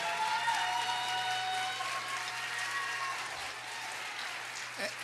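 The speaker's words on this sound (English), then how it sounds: "Another round of applause for Soul in Motion and Vision's Contemporary Dance Company." An audience applauds a contemporary dance company's performance at an MLK Day celebration in Rockville, a dense, steady wash of clapping lasting several seconds at moderate distance.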